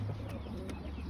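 Low, soft cooing from domestic pigeons kept in a breeder's loft, parent birds among them sitting on eggs, close by and continuous, with faint rustling and no speech.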